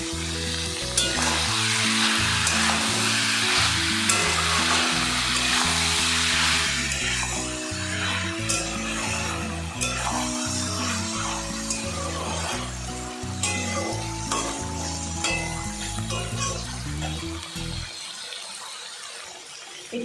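Soybean curry masala sautéing over high-to-medium heat in a pan, a loud continuous sizzle with busy stirring and scraping throughout, cutting off abruptly near the end.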